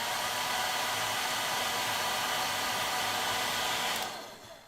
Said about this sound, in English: So it's a bit of hairdryer action.